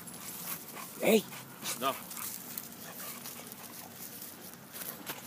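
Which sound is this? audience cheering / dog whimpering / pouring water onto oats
dog whimpering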